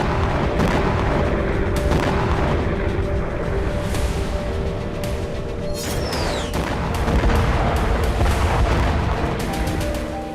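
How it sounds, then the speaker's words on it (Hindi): GLSDB bomb strikes on a Russian frontline post at Kozachi Laheri on the eastern front: loud, continuous rumbling blasts and booms with dense crackling, sustained throughout without pause. "ईस्टर्न फ्रंटलाइन पर रूस के कोजाची लाहेरी पोस्ट पर बम से धमाका किया गया।"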